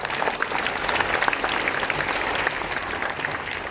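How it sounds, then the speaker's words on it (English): Students at a school assembly applaud together, a dense, steady burst of clapping that fills the hall for a few seconds with no talk over it. "Clap for yourselves."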